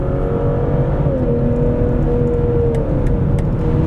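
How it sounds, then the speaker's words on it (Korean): A BMW inline six-cylinder engine with 258 horsepower, in sport mode, revs steadily and loudly from inside the cabin, its smooth rising drone holding for about four seconds with no talk. "6기통 엔진 회전질감이 몹시 매력적입니다"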